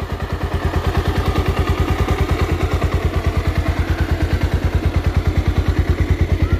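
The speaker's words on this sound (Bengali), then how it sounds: "দেখুন এটা হচ্ছে ইঞ্জিন কন্ডিশন, গাড়িটা স্টার্ট অবস্থায় রয়েছে" A second-hand Bajaj Pulsar double-disc ABS motorcycle idles close by, its engine putting out a steady, rapid low thumping pulse that stays even throughout, with no talking over it.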